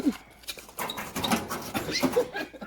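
A dog close by, heard as short whimpering and snuffling noises in scattered bursts, with some faint human sounds in the background.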